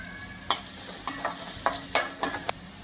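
Green chillies and onion fry together in a pan over a soft background sizzle, with six evenly spaced, crisp scraping strokes of a spoon stirring them close up.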